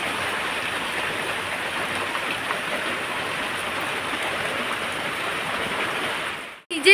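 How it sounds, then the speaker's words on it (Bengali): Steady heavy rain pours down in a continuous, even hiss that holds for several seconds before cutting out abruptly at the end. "এই দেখো কত বৃষ্টি হচ্ছে"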